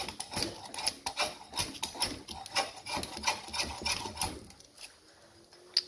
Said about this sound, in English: very, very, very carefully scrape in and try and find the growth rings that I want to get rid of.